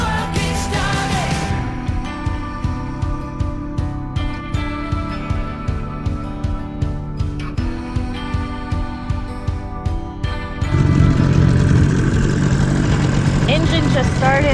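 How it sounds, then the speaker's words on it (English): Music with singing plays over a rhythmic beat, then the engine of a new dinghy, running after its first start, takes over as a loud, steady broadband drone for the last few seconds. "Engine just started for the first time on the new dinghy."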